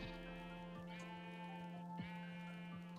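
A Minecraft sheep bleats in a steady, wavering, buzzy drawn-out call, repeated a few times in quick succession, clear and close with nothing else around it.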